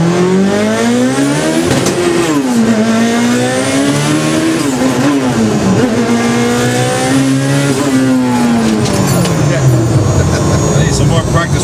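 A Mitsubishi Evo 8 launches hard off a two-step launch control, its engine roaring close and loud as the revs climb in repeated rising sweeps between gear changes.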